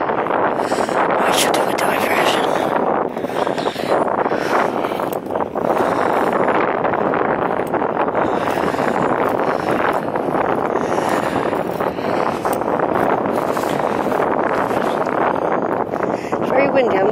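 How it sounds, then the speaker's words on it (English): Strong wind on an open hillside buffets the microphone in gusty roars, with faint voices now and then beneath the rushing noise. "It's very windy."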